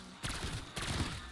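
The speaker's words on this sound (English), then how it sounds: "You see the explosions like randomly happen in this area right here." Shatter Blast ammo mod explosions going off in Black Ops 6 Zombies, two loud broadband blasts about half a second apart, each with a crackling tail, over a steady game background.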